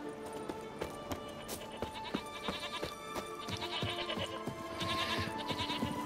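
Goats bleating in The Witcher 3, several short bleats overlapping and repeating at varied pitches over a light outdoor game ambience, fairly close, with no speech.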